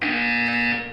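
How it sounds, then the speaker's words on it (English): A loud, steady buzzer sounds in the Portal 2 video game, a harsh sustained electronic tone held for about a second before tapering slightly at the end. "When you hear the buzzer, look down at the floor."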